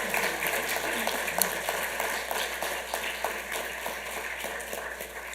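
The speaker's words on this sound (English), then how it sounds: "let's give these sponsors and Suavecito a big round of applause for these sweepstakes" Applause for sponsors fills a Santa Ana city council meeting room, a modest crowd clapping steadily at moderate distance for several seconds and gradually thinning out.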